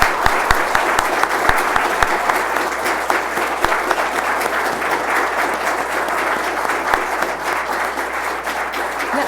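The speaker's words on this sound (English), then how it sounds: "let's give our panel a round of applause" An audience at a SETICon 2012 panel discussion on the Allen Telescope Array applauds the panel, a full, sustained roar of clapping with a few sharper claps standing out near the front.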